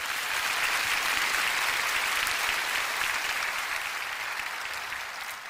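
A church congregation at a prayer meeting breaks into loud, continuous applause that fills the hall evenly and tapers only slightly toward the end.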